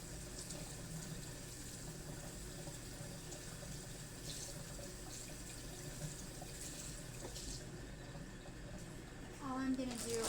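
Tap water runs steadily into a kitchen sink while spice packets from a corned beef are rinsed, a continuous close hiss and splash that rises slightly in the final second.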